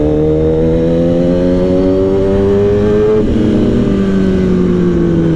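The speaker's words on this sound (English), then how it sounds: "This bike with Kaibo's exhaust is very loud" A 2015 Kawasaki ZX10R motorcycle with a loud Kaibo exhaust being ridden, a very loud, close, steady engine drone whose pitch climbs through a gear, dips briefly, then climbs again, with no voices.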